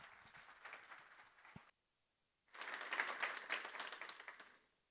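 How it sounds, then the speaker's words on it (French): An audience at a morning conference talk claps in a burst, falls briefly silent, then breaks into a second, fuller round of dense applause that fades out at the end. "Merci beaucoup pour ces applaudissements."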